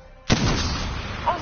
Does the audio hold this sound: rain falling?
no